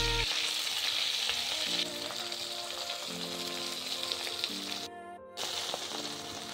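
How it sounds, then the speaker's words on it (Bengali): Shrimp lightly frying in oil for chingri malai curry, a strong continuous sizzle close up with a low hum underneath and a brief sharp clatter near the end, no voices. "তো আমি হালকা করে কিন্তু মাছগুলো ভেজে নেব"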